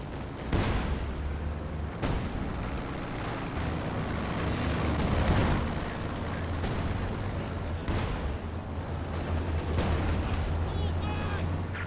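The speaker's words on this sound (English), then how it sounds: "Using high explosive barrages from the Zis guns." High-explosive artillery barrages from ZiS guns in Company of Heroes 2 give repeated heavy booms and rumbling blasts over a continuous battle din, fairly loud, with a commentator's voice faintly underneath.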